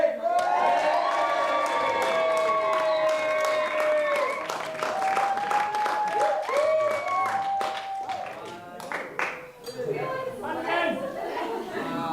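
Wedding guests burst into cheers, clapping and chatter at the cake cutting, a lively crowd sound with whoops and voices that fades slightly toward the end.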